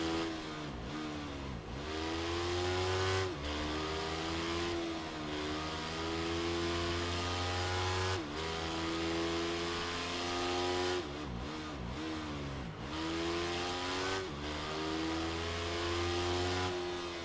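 Motorcycle engine in the racing video game Ride 3, a steady high revving whine rising and falling through gear shifts, loud and continuous with no talk.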